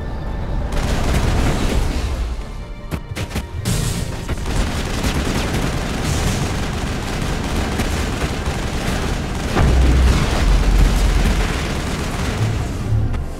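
Sustained gunfire during a firefight in the Mass Effect video game, dense booming shots and bursts running continuously and loudly throughout, with heavier thuds near the end.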